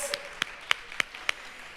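Faint scattered claps from a small audience at a public arts meeting, only four or five sharp isolated hand claps spaced a fraction of a second apart, thin and distant.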